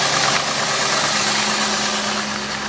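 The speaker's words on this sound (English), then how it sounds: "Very nice running motor. Has a little bit of a tick right now because it's very cold." A car engine idling steadily just after a cold start on a very cold day, its even mid-pitched hum carrying a slight ticking throughout, close and continuous with no talk.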